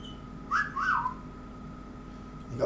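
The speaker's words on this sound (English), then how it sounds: "You got a whistle out?" A whistle blown during a relaxed Monday night session gives two quick, faint chirps close together, each with a short rising-then-falling pitch, against a quiet background.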